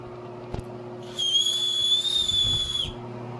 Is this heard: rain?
no